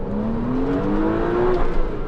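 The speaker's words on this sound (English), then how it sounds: "Let me demonstrate just the sheer difference in engine performance here. From first gear, I'm gonna roll into it." A sports car engine revs hard while accelerating from first gear, a steady rising drone climbing in pitch for about two seconds, loud and close with no talking.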